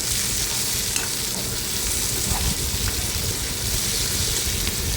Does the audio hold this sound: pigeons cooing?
no